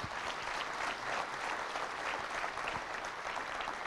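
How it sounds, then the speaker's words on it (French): A conference audience at an agriculture event applauds after speeches, a dense, steady wash of clapping with no single claps standing out, heard at a distance and fairly quiet, with no talking. "Je pense qu'on peut les applaudir encore une fois très très fort."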